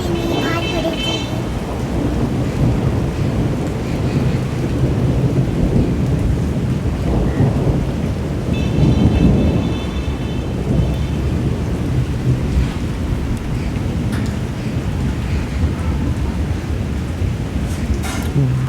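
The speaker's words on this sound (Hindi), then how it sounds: "बहुत तेज़ बिजली कड़क रही है" Heavy rain pours steadily during a thunderstorm in Panchkula, with loud rolling thunder cracking and rumbling over the dense hiss, fairly close and continuous.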